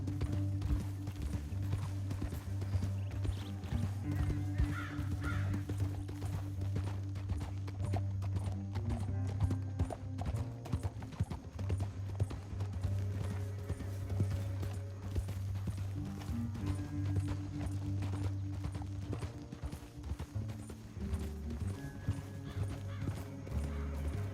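Horse hooves clip-clopping in Red Dead Redemption, a steady rhythmic gait over a continuous low game soundtrack drone, with an occasional whinny.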